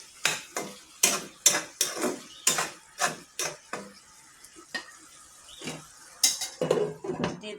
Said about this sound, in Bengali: এখন আমি নাড়াচাড়া করে ঢেকে দিই।